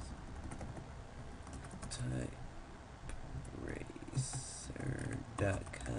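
Fast clicking of computer keyboard keys during a typing-speed exercise on a typing website, steady bursts of taps close to the microphone with a voice talking over them.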